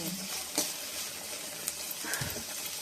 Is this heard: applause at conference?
no